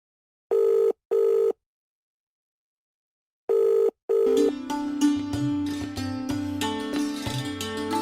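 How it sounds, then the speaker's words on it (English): A phone rings in short beeping tone pairs separated by silence, then a melodic ringtone tune with bass notes takes over and plays steadily. "Ever notice the mobile phone vibrating when it rings?"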